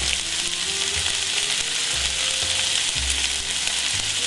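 Onions with mushrooms, salt and pepper sizzle steadily in a sauté pan, a loud continuous frying crackle with faint stirring scrapes underneath and no talking.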